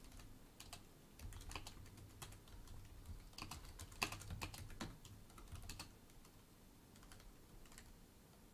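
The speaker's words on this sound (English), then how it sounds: "I'm typing him back." Fingers tap out quick irregular bursts of keystrokes on a computer keyboard, close and fairly quiet, with short pauses between runs and a low steady hum beneath.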